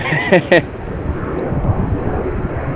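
An airplane departs from Amsterdam Schiphol Airport during parallel departures, its engine roar a steady broad rumble with wind noise at the microphone, while a voice briefly speaks near the start.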